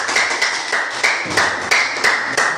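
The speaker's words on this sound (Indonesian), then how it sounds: "tepuk tangan untuk kelompok 3 dulu." Classroom applause for a student group, a burst of clapping hands from the class that keeps going at a fairly even pace, with a few louder claps standing out, close and loud with no talking.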